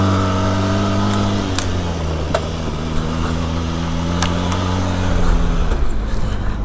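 Benelli TRK 502X motorcycle ridden off-road on a dirt track toward the mountains, its engine droning steadily up close with a pitch dip and a rise in loudness near the end, with no talk.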